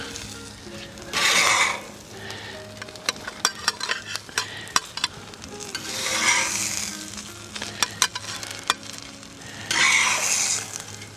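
Eggs frying with tomatoes on a grill pan, a steady close sizzle broken by three louder bursts of hissing spatter, with scattered clinks and scrapes of a utensil in between.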